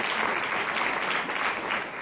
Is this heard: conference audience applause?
yes